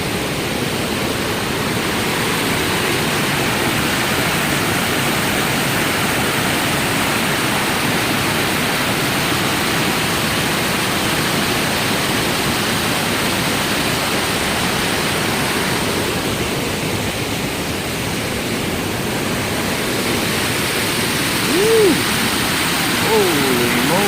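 The river at Tumwater Falls rushes beneath a bridge in a steady, loud roar of broadband water noise that holds unbroken for over twenty seconds.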